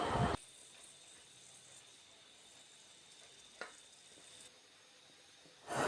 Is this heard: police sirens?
no